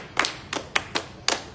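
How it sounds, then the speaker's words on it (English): Five separate sharp hand claps in an uneven rhythm, fairly close and moderately loud, as an audience claps for a student at a college of education. "Let's clap for him."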